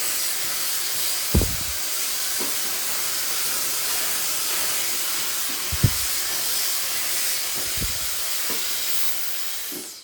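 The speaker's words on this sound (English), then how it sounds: "And then go ahead and blow dry." A hair dryer blows steadily, with a loud, even broadband hiss, while layered short hair with bangs is blow-dried after a thickening spray has been applied. A few brief low thumps sound over the constant airflow.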